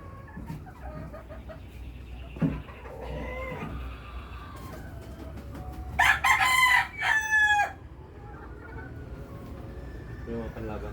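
Fighting roosters and hens at a Cabatuan, Iloilo fiesta, with a loud burst of crowing and clucking near the middle over steady crowd murmur and people talking.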